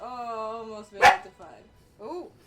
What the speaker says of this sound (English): That's my dog Luna.